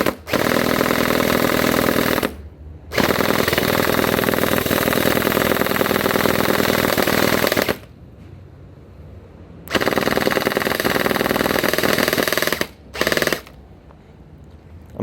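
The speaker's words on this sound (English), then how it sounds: "the spring and the motor just banging away, and it seems effortless" A Bing Feng MK18 gel blaster fires in long full-auto bursts, its spring and motor hammering in a rapid, loud, steady rattle, broken by a few short pauses between strings of shots.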